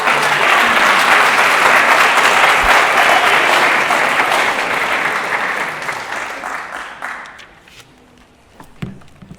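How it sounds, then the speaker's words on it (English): A graduation ceremony audience breaks into loud, sustained clapping that holds strong for several seconds, then thins out and fades to a few scattered claps and small knocks at the end. "Can we please just give her another round of applause?"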